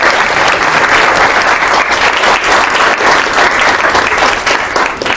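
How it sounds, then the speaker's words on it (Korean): Loud, dense applause from an audience following a presentation, sustained clapping for about five seconds with a slight tapering at the end. "큰 박수가 쏟아졌습니다"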